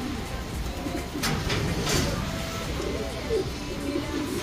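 Racing pigeons coo softly in a loft while heavy storm rain pours steadily around them, with occasional louder gusts and thumps.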